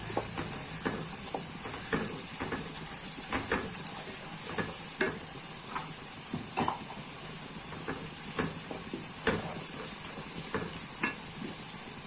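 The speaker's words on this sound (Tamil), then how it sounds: "இதை நல்லா வதக்கிக்குவோம் இது நல்லா வதங்கணும்" Garlic for pickle sautés in a pan, a steady close sizzle with regular scraping and tapping strokes as it is stirred.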